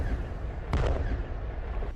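A single heavy boom from a howitzer firing a shell, one sharp blast that rumbles low and then fades, with a fainter thud near the end.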